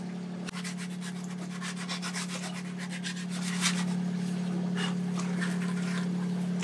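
Steady rasping strokes of hand sanding, close and continuous, over a constant low hum, growing slightly louder partway through.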